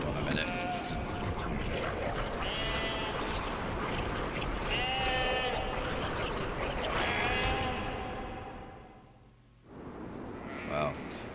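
Sheep bleating in the folk horror video game Daemonologie, several wavering bleats overlapping in a loud, busy stretch before fading briefly, with a voice talking over them.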